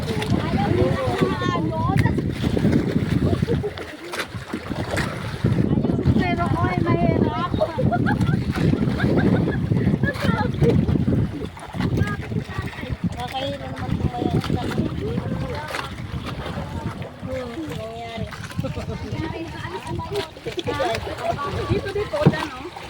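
A small bangka boat rides big waves at sea, with wind buffeting the microphone, splashes and hull thumps throughout, while people talk and laugh over the noise.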